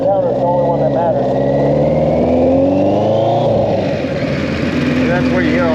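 A Kawasaki GPZ 1100 motorcycle engine revs steadily while riding on a two-lane road, its loud, continuous drone rising and falling in pitch through gear changes, close and dominant throughout.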